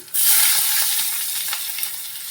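Garlic cloves frying in oil with black cumin seeds for a fish curry, cooking until reddish; a sudden burst of close sizzling hiss starts the clip, then holds steady with faint stirring scrapes.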